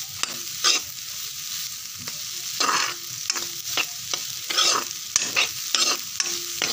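Egg fried rice frying in a pan, with a steady bright sizzle broken by repeated scraping strokes of a spatula stirring the rice, close and fairly loud, no voices.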